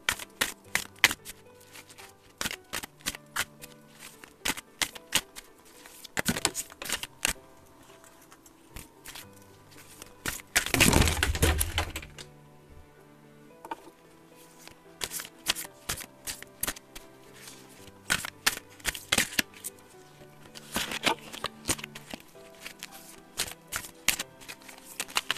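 Tarot and oracle cards are shuffled by hand, with repeated crisp riffling and slapping bursts, one louder dense riffle near the middle, and quieter taps and card handling between, all close and with no talk.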